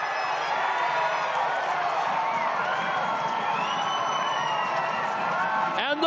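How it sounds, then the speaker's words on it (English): A large football crowd at an Australia Cup 2024 match roars and cheers continuously after a goal, a dense, sustained wall of voices from the stands with a few whistles and whoops near the end. "And the whole crowd brought to their feet"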